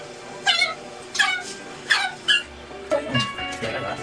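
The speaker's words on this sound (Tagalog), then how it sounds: "diba kasi aso mo, Frenzy?" A small dog gives a run of short, high-pitched whines and yips, about half a dozen in quick succession, close by.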